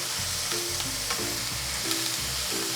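Ground beef sautés in a pan with a steady sizzling fry, punctuated by a few stirring and scraping strokes as the meat is broken up, close and alone without talk.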